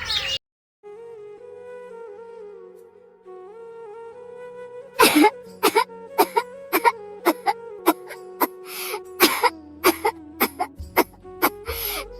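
A long moaning tone, then a rapid run of sharp, loud coughs, one after another, over a faint steady hum.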